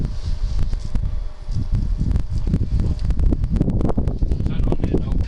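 Wind gusts across a garden in January, battering the microphone with loud, low, rumbling buffets and rustling bursts that rise and fall continuously throughout.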